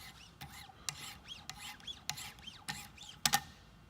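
Steel shears drawn across a 1500-grit Wicked Edge sharpening stone, giving a series of short rasping strokes, about eight passes in a steady rhythm, close and fairly quiet with no talk.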